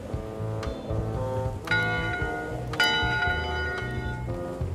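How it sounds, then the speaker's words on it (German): A ship's bell on the upper deck rings in Return to Monkey Island, two bright metallic strikes with long shimmering decay over a soft murmuring sea ambience and low background music. "Mit der Glocke auf dem Oberdeck kann man die Mannschaft rufen"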